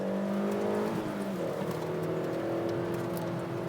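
Small hatchback engine revving hard while racing, a steady droning whine that dips and climbs with gear changes, heard from inside the car with road and wind noise.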